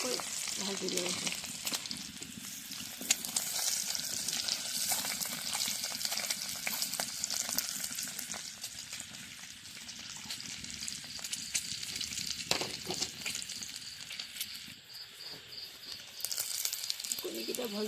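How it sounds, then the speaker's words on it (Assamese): Shelled boiled eggs browning in hot oil in a village kitchen, a long, steady crackling sizzle with a few stirring knocks and faint background noises. "কণীখিনি ভাজি লওঁ।"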